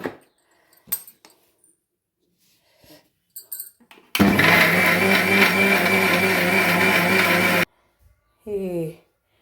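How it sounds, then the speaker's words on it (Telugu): A mixer grinder whirs loudly for a few seconds grinding onion chutney paste with tamarind water, a steady harsh motor drone, framed by brief clattering and a short burst of speech afterward. "పోసి మెత్తటి పేస్ట్ లాగా మిక్సీ పెట్టాలి"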